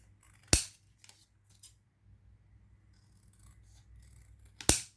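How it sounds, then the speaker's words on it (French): Scissors snip paper being trimmed for a glued mini notebook, giving two sharp, close cuts at the start and end with light rustling and handling noises between them. "Si jamais vous voyez qu'il y a des petites retouches à faire, et bien vous venez recouper."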